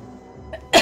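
A single short, sharp cough bursts out near the end, loud and close, from a person with a chesty cough, after a moment of quiet low sound.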